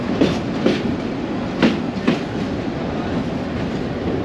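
A local train rolls between Dhaka and Narayanganj, with a steady rumbling carriage and a few sharp rhythmic wheel clacks on the rails, with no voices.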